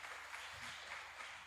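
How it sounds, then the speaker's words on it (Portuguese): Church congregation applauding the Lord during a Portuguese-language evening service, a faint, steady wash of clapping heard from a distance. "Quem pode aplaudir o Senhor, queridos?"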